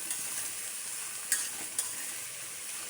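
Chopped ridge gourd goes into hot oil with fried onions and chillies, giving a quiet steady sizzle broken by two brief clinks of the spatula.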